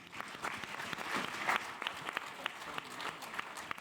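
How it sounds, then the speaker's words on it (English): A crowd applauding steadily, dense clapping from many hands at a moderate distance, continuing for several seconds with no voices over it. "let's give a massive round of applause for Gavin Bridge."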